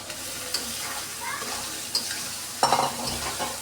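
Potatoes tossed into spiced masala sizzle quietly in a pan, with a spoon scraping and stirring and a couple of sharp metallic clinks against the cookware, close and fairly soft.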